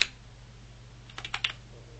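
A few quiet key presses as a password is typed on the keyboard of an Asus Eee PC 701SD netbook: a short cluster of soft clicks after a near-silent pause, over a low steady hum.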